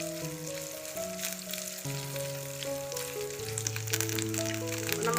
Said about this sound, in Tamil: தேங்காயை வறுத்து எடுத்துக்கலாம்